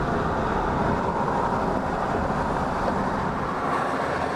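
A Union Pacific freight train rolling through Colton Yard on the Sunset Route, a continuous loud rumble and rail roar that holds steady throughout with no voices.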